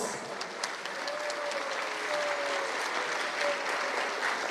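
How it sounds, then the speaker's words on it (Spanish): Steady applause from a seminar audience, a continuous patter of clapping hands heard at moderate distance without any speech. "los aplausos para Víctor Hugo Rosales, compañeros"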